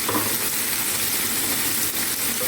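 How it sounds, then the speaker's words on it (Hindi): Onions and tomatoes fry in a pan for an okra masala, giving a steady, close, dense hiss of sizzling oil that continues throughout with no talking. "अब ये थोड़ी देर के लिए इसको फ्राई करूँगी"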